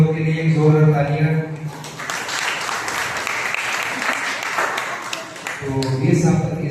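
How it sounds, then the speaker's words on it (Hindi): An audience at a Sunday church service in a hall applauds to welcome three newcomers, a dense burst of clapping for about three seconds with speech just before and after. "तो इन तीनों लोग के लिए एक जोरदार तालियां।"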